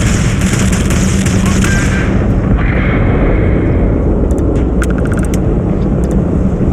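Ship-mounted turrets on a tiny cargo ship fire in the space game Starfield, a loud sustained booming rumble with sharp clustered bursts near the end.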